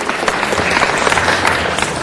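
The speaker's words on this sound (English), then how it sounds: "Let's give her a big round of applause." Audience applause fills a city council meeting hall, a dense steady wash of many hands clapping at fairly loud level with a few scattered louder claps.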